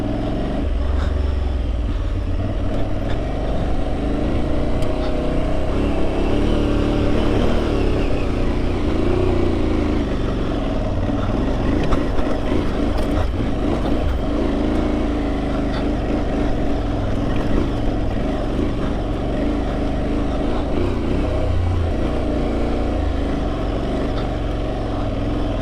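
An Aprilia Tuareg 660 adventure motorcycle crawls along at low speed, its engine a continuous, close, rumbling burble with slight throttle variations and wind noise throughout.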